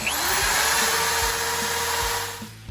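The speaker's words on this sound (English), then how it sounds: "I will drill a hole here before I put the frame in place" A power drill bores a hole through a steel subframe bracket during a vehicle subframe build, giving a steady, loud motor whine with grinding cutting noise that runs for a few seconds before easing off.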